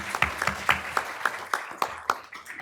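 Scattered applause at an affordable housing summit: a modest audience claps in a loose, uneven run of distinct hand claps over under three seconds, fairly quiet and thin rather than a full ovation.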